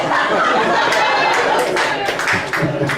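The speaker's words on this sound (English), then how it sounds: "Get an applause out of that one right here." Scattered clapping from an audience with some chuckles and crowd murmur, fairly loud and close, building briefly before tapering.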